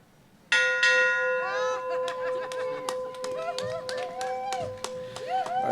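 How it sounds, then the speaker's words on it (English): A ceremony bell struck at the Let Freedom Ring ceremony rings out loud and near with a long sustained tone, followed by a crowd clapping and scattered chatter as the ringing decays. "now we are going to start the ringing the bell"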